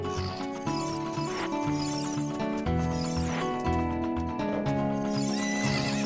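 A horse neighs loudly over a busy backdrop of music, with clip-clopping hooves and layered game sound effects throughout, in Zelda: Ocarina of Time.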